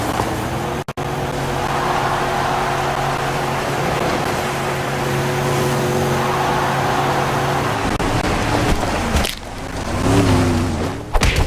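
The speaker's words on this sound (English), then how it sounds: "On Monday, we kicked off the week with Gabby experiencing various car crashes in the facility, as well as facing against other cars in the Derby arena." Engines roar and rev steadily as cars race in a Roblox demolition derby arena, with a continuous loud motor drone, a brief dropout near the start and a louder surge of revving and impacts toward the end.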